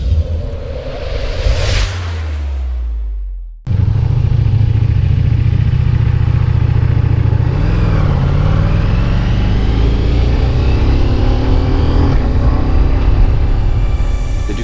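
A Ducati Diavel V4 motorcycle with a BT Moto tune: a brief whoosh and clatter give way to a loud, steady V4 engine note that rises in pitch partway through and stays close.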